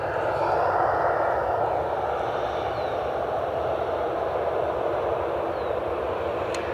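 A Delta airliner, Flight 880 bound for Atlanta, passes Cleveland Hopkins airport, a broad steady jet roar holding constant throughout, moderately loud and at a distance, with no talking.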